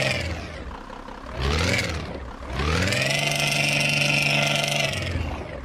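An engine from a vehicle sound mod in a driving game, a rough snoring old-bus type, revs up briefly, drops, then settles into a steady, loud held drone for several seconds.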